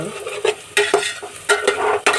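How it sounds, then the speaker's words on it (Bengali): Onions frying in oil in a large pot (dekchi) for chicken biryani, stirred with a utensil that scrapes and knocks against the metal in quick repeated strokes over a steady close sizzle. "আমার পেঁয়াজটা অলমোস্ট ভাজা হয়ে গেছে"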